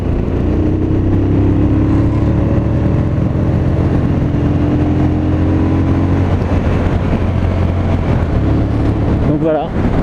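A MASH Five Hundred motorcycle engine drones loud and steady while riding through bends on holiday in Brittany, a constant low hum with wind noise and a slight shift in pitch near the end.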